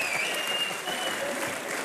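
Steady, dense applause from a studio audience at a TV comedy show, Comedy Nights With Kapil, loud and continuous throughout with a faint whistle above the clapping.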